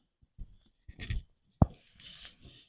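Shoulder joints click during slow arm rotations in a yoga routine: a few soft, separate clicks and rubbing sounds, close and quiet, with a short sharp snap near the middle.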